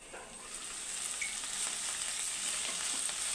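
Ponnaganti greens cooking in a pan, a soft steady sizzle and faint stirring with no talk, quiet and even throughout.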